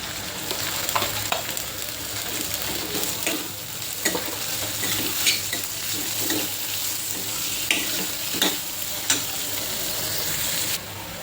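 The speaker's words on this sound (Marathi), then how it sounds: "कांदा छान खरपूस भाजून घेतला आहे" A large chopped onion fries in a pan, a continuous sizzle running throughout while a utensil stirs it with scattered scraping knocks, close and steady, with no talking.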